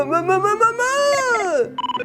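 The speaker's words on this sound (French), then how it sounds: "Ah, mon téléphone sonne, qui cela peut bien être?" A mobile phone ringtone plays as a rising melodic tune followed by a few quick repeated beeps, close and clear, with a voice at the very start.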